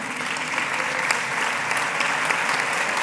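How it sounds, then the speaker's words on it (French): Brisk, dense applause fills a hall for students from regional hotel schools at a New Year's greetings event, steady and close throughout with no pause. "qu'on applaudit"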